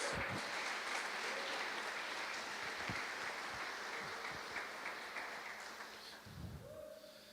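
Congregation clapping during an evangelical church service, a faint distant patter of hands under a hum, with a few voices rising briefly near the end.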